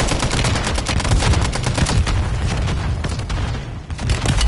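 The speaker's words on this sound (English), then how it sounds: "grenade launcher" Gunfire and grenade launcher explosions in the Warzone battle royale video game, a dense, continuous barrage of loud shots and booms packed together for several seconds.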